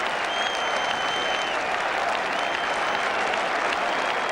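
A cricket crowd at the 1981 Ashes Test applauds a wicket with sustained, dense clapping and cheering that holds steady throughout.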